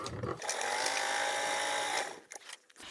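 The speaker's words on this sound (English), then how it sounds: "with the drink sleeves, we're now sewing them together" A sewing machine stitching drink sleeves together at a quarter-inch seam, a steady close whirring run for about two seconds, then stopping with a few soft clicks, fairly quiet.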